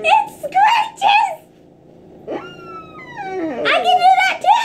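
A Dino Roar plastic dinosaur toy lets out a shrill, wavering screech between stretches of lively vocal sounds, with a person's voice close by and chiming in around it.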